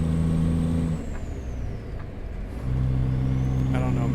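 A Ford CLT-9000 truck engine idles close by with a steady, low, droning rumble that sags briefly midway and then returns to full strength, with no voices.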